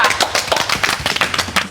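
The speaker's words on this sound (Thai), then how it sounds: "ครับปรบมือให้กับนักเรียนต้าอูค่ะ" Brief, uneven clapping from a small classroom group applauding a student, a scattered burst of sharp hand claps lasting under two seconds.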